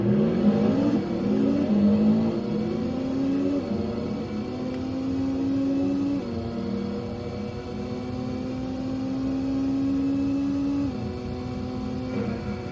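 A race car engine in the TORCS racing video game whines steadily through upshifts, each gear climbing in pitch before dropping at the change, loud and even with no talk.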